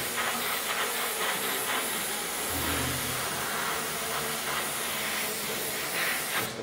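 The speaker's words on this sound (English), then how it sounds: "Music for your ears, your compressor." Air compressor running in a paint workshop, a steady loud hissing roar with a low throbbing rumble underneath, continuous and close throughout.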